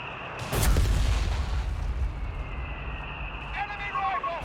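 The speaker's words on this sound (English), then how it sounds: "It's getting blasted by this mortar" Mortar shells exploding in Company of Heroes 3, one heavy close boom followed by a long rumbling tail and a few faint tonal game alerts, with commentary voice present.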